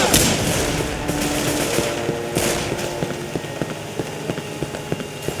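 Rapid automatic gunfire from Left 4 Dead 2, a continuous clattering stream of shots at close range, alone without talk.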